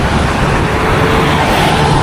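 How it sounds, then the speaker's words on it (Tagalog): Heavy highway traffic streams by at close range, a dense, loud wash of cars, buses and trucks blending into one steady roar without pause or speech. "Di makatawid guys, di makatawid. Daming sasakyan."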